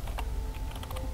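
Rapid typing on a computer keyboard while entering code, a quick run of close, crisp key clicks with no voice over them.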